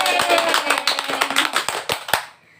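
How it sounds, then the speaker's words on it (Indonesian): Schoolchildren in a classroom guidance session clap their hands in a quick, rhythmic burst of sharp claps, loud and close, stopping abruptly near the end and leaving a brief quiet. "5 jari kanan, 5 jari kiri, digabung jadi 10, jadilah tepuk tangan"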